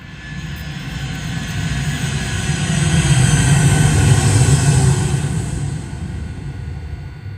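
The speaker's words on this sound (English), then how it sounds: "It's an airplane." Airplane engine roaring loudly and steadily, swelling as it passes close by and then easing slightly, with no voices.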